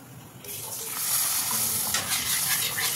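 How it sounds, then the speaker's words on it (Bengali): Milk poured into a pan of browned butter and flour sizzles up suddenly, then keeps hissing steadily while the mixture is stirred, close and moderately loud. "এবার আমি এতে দিয়ে দেবো দুধ।"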